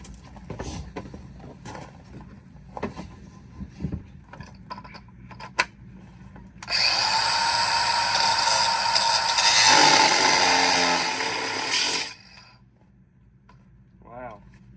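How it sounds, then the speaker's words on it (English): Angle grinder wheel cutting into a steel trackbar bracket during a Dana 44 axle swap, a loud sustained bright grinding burst lasting several seconds after scattered clanks and handling noises. "the grinding wheel"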